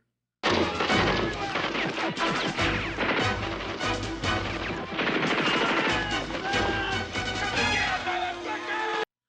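Heavy gunfire and crashing impacts from the 1986 horror film House, a loud, dense and continuous barrage of shots and smashes with talking mixed underneath.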